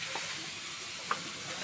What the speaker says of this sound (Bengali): এই যে এখানে আমার আপা রান্না করতেছে লাউ ভাজি